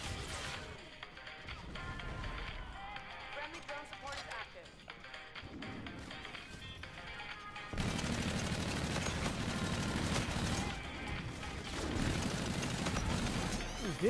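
Light machine gun bursts ring out in Call of Duty: Infinite Warfare gameplay, rapid repeated shots crackling in dense stretches with crashes and impacts, mixed with game sounds and a player's voice talking.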